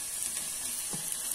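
Vegetables such as capsicum, carrot and beans sautéing with turmeric in a pan of Healux cookware for veg pulao, giving a steady close sizzle with faint stirring.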